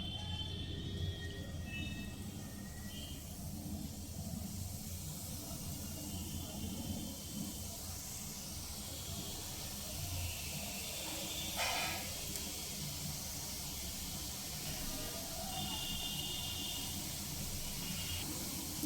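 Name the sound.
gathiya dough frying in hot oil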